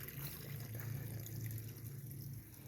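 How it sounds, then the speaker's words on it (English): Water pours steadily from a garden waterfall, a continuous splashing rush with a low hum underneath, heard up close and without speech. "make the waterfall flow"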